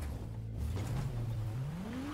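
A Ferrari engine in the racing game Ferrari Challenge hums close by, its pitch dipping and then climbing steadily as the car accelerates, with a brief whoosh near the start and no talking.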